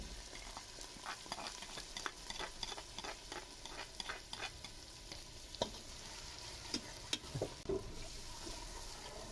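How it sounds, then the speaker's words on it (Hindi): Ginger, garlic and tomato frying in a pan for beef trotters paya, with steady sizzling and repeated stirring scrapes across the whole stretch, close and at moderate level, no voices. "अदरक लहसुन और टमाटर को अच्छी तरह से भूनेंगे"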